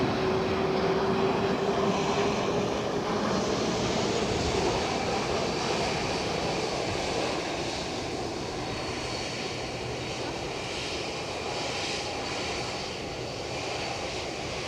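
Jet airliner roaring at Edinburgh Airport during takeoffs and landings, a broad distant rumble with a faint whine that slowly fades over the span.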